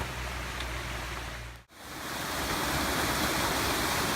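Steady roar of a tall waterfall passed along a trail on Swiss National Day, broadband rushing noise that briefly dips and then returns, fuller and closer, with no voices.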